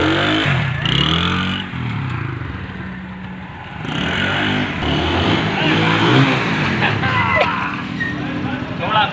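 A motorcycle engine runs steadily in gear after being started without its ignition key, a close, continuous rumble with some clatter while people talk over it throughout.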